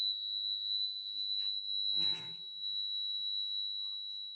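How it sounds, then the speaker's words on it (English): Two closely pitched sine tones play together and blend into one steady, high electronic whine held throughout, with a brief muffled rustle partway through. "when I play the 2 together, because they're so close, the idea is they'll sort of merge into one tone"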